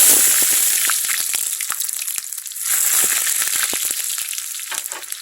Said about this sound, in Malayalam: 1 ടേബിൾ സ്പൂൺ എണ്ണ ഒഴിച്ച് കൊടുക്കാം. കുറച്ച് കടുക് ഇട്ട് കൊടുക്കാം. കുറച്ച് ഉള്ളി ഇട്ട് കൊടുക്കാം.